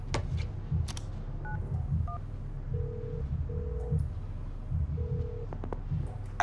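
Phone keypad tones in FIFA 19's The Journey story mode play as several short separate beeps, some paired in quick succession, while a soft low background hum runs under them and occasional clicks sit between the presses.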